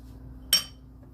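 A single sharp metallic clink of a utensil against a pot while stirring homemade banana pudding with vanilla, brief and close over a faint low hum.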